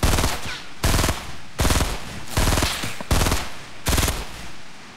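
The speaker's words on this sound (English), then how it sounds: "Man, I'm being shot from everywhere." Rapid automatic gunfire from the Fortnite video game blazes in six loud bursts of about half a second each, separated by short pauses, with no talking over it.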